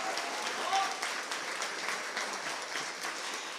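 Wedding guests at a garden venue in Carp, Ontario, applaud during the speeches, producing a steady, dense wash of clapping that sounds somewhat distant and moderately soft.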